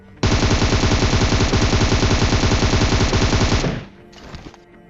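Rapid automatic gunfire in a shooter video game, a loud continuous burst of rattling shots for about three and a half seconds that cuts off abruptly, followed by a faint short echo.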